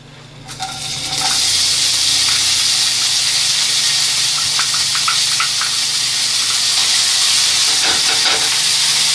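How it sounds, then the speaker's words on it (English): Onions and garlic hit a hot non-stick pan in a small apartment kitchen, bursting into a loud, constant hissing sizzle after a brief quieter moment, with faint clicks scattered through. "I'm gonna add my onions and garlic first."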